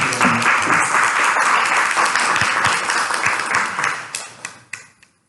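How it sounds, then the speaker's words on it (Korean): An audience at a tech meetup breaks into dense, continuous applause to welcome a guest speaker, loud and sustained before thinning into scattered claps and fading out. "큰 박수로 환영 부탁드립니다"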